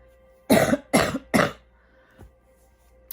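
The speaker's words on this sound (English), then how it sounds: "I have to cough all this shit out of my lungs." Three loud, close coughs in quick succession, followed by a faint throaty rasp.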